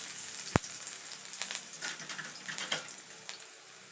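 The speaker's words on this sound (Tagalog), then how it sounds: "Magsusotate muna ako ng mga seasonings." Garlic and shrimp seasonings sauté in a pan for a cauliflower and shrimp dish, giving a steady close sizzle with scattered crackles and one sharp tap near the start.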